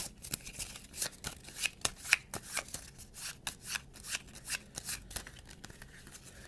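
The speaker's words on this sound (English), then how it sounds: "have the spectator take a few cards off the top" A spectator shuffles and mixes a deck of playing cards by hand, a quick run of crisp riffling and slapping bursts repeating close up, with no talking.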